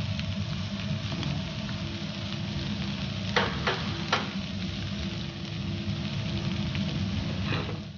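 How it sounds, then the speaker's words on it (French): Steady, dense sizzling of chicken carcasses and chopped ingredients sautéing in olive oil for a chicken fricassee, continuous and close with a few sharp crackles and pops, no talking. "avec l'huile d'olive que j'ai remis, on va faire revenir un petit peu les ingrédients que j'ai mis"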